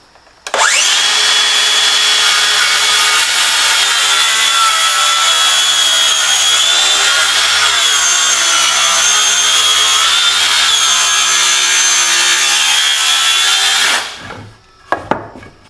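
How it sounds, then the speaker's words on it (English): A saw rips lengthwise down the center of a 1-inch-thick wooden board in a steady, loud, continuous cut lasting about thirteen seconds, then stops abruptly, with a few faint clunks afterward. "So this board's 1 inch thick. I'm going to find 1/2 inch and that'll be close enough for ripping it down the center."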